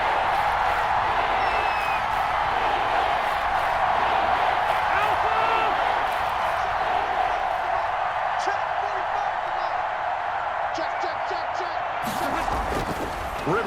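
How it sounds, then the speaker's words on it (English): A stadium crowd roars steadily in a Madden NFL 21 football game as a big third down approaches, a loud sustained wash of cheering with a commentator's voice talking over it. "the crowd getting into it as we come up on a big"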